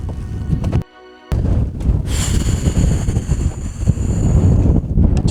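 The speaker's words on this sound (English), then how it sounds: "It's really windy today." Strong wind buffets the microphone in loud, rumbling gusts, with a brief drop-out early on and a hiss of air rushing past.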